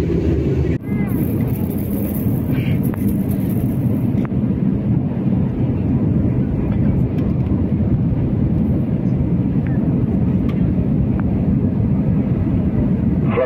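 Steady, loud low-frequency roar of a Batik Air Airbus A320 cabin in flight between Jakarta Halim and Semarang, a continuous engine and airflow drone that holds evenly throughout with no pauses.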